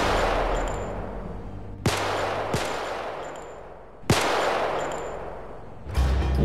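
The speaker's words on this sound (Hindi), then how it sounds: "ये 15 नजम साहब के बंगले में फायरिंग हो रही है।" Several sharp gunshots ring out at a bungalow, with loud isolated cracks spaced a couple of seconds apart over a steady background hum and no voices.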